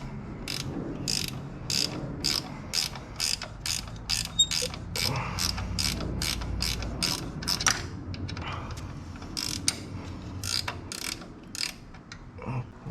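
A ratchet loosening a 12 mm bolt during an alternator replacement on a Toyota Camry, Corolla or sixth-generation Celica clicks in a steady, rapid run at close range, with some creaking metal and low workshop rumble underneath.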